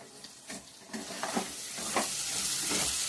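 Mutton with chilli powder, masala and salt is stirred in a sizzling pan. Repeated scraping strokes of a spoon sound over a steady frying hiss that grows louder, close up, with no talk.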